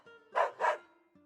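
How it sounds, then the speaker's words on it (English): Two quick, spirited dog barks in the video game Metal Slug Awakening, close and clear, one right after the other with a faint tail of background tone. "My, what a spirited dog."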